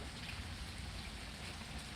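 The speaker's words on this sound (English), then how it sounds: "It's raining a little bit, and it's not gonna revamp this time around." Light rain falls after a storm, a soft, steady, faint patter with no voices.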